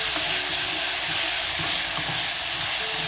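Tomato paste gets stirred into dry toasted rice and spices in a hot pan, giving a brief, steady sizzle and hiss with soft scraping, close up and free of speech.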